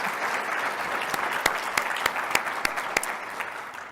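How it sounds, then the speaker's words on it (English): Audience applause at a foundation conference in Salt Lake City: steady dense clapping from a crowd, with sharper individual claps popping out near the front, sustained at moderate volume throughout. "could we please give them another round of applause?"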